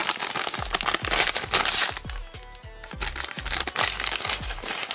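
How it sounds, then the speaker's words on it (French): Plastic packet from an LOL Surprise OMG Remix doll box torn open, loud close crinkling and crumpling with rapid tearing rustles throughout, briefly easing midway before resuming. "On va ouvrir ce sachet pour commencer."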